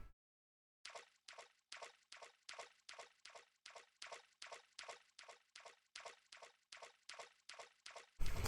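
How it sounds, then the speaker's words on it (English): Water splashing in the video game Deadly Premonition: a long series of regular, evenly spaced splashy bursts, about two per second, fairly loud and alone, ending in a louder thump. "Water splash sound effect."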